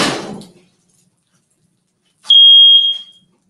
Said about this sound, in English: Please don't set my fire alarm off.